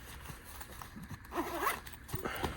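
An EDC pouch's zipper is pulled open, a close, quick rasping run of teeth that rises in two short bursts against a quiet room, with no talking.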